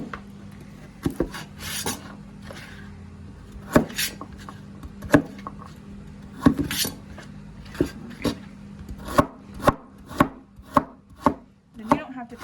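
Knife chopping carrots for a vegetable cheese soup on a cutting board, sharp irregular knocks that come in clusters and speed up into a quick run near the end, close and crisp over a faint background hum.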